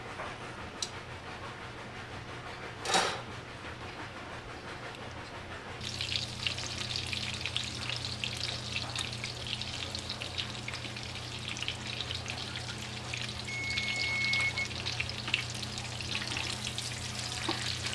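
A pork Milanese cutlet fries in oil, giving a faint, continuous crackling sizzle that grows busier partway through, with one brief louder clatter early on.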